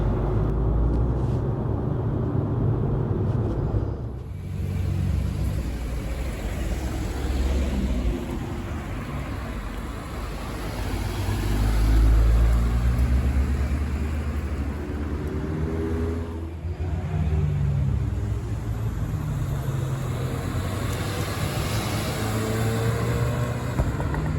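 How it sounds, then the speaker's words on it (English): Interior of a VW Golf GTI Clubsport S on Eifel mountain roads: a steady engine drone and road rumble that rises and eases with throttle and never drops out. "let's take the record-breaking Clubsport S onto the roads around here in the Eifel Mountains"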